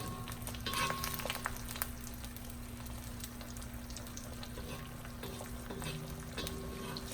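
Fried rice sizzling in a Lodge cast iron wok, a soft continuous frying hiss with occasional scraping and stirring clicks, faint and steady throughout.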